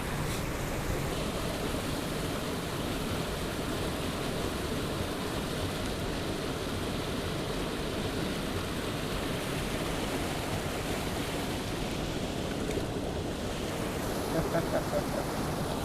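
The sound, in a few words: waterfall pouring into pool in a stream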